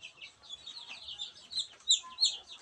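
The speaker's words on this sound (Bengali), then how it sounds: "মুরগি ছোট ছোট দেশি মুরগি" Small native chickens on a small farm set-up cluck and chirp softly in a quick, uneven run of calls, fairly close, with a couple of louder notes near the end.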